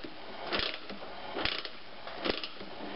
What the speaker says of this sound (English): and just use your ratchet wrench